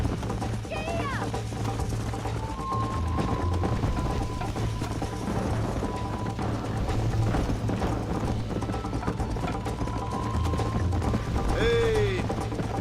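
Horse hooves gallop in the Red Dead Redemption video game, a steady rhythmic clatter running under game music, ambient effects and a rider's shouts throughout.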